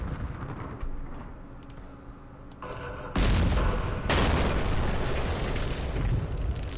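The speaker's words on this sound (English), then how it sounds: "Ah, the mortars." Mortar fire in the Vietnam war game Campaign Series Vietnam, set in the Battle of Hue: keyboard clicks, then a loud, booming blast that rumbles on and swells again.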